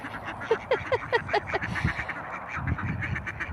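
Domestic and wild ducks give a quick run of close, nasal quacks during the first couple of seconds, then the quacking fades to softer, scattered calls against a low background.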